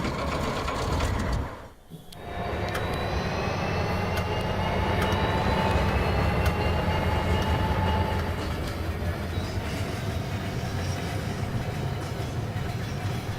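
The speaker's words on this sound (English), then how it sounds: "let's get some trains going" Model trains run on an electrified layout in the VR game Rolling Line, a loud continuous rolling rumble and rail hum with whining tones, briefly dipping near the start then steady and close, without talk.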